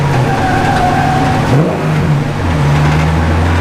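A car engine revs hard and steady while the car spins donuts, with a brief dip and tire squeal midway before the roar builds back up, loud and close throughout.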